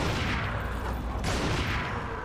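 Gunfire in the video game Resident Evil 4 on a modded island level: dense, loud rapid shots blending into a continuous barrage, close and unbroken, with no voices over it.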